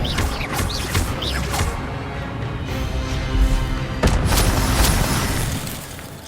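A spell is cast in Hogwarts Legacy, a magic duel in a video game, landing as a booming, crackling burst amid steady rumbling ambience, with further bright impacts later and no talking.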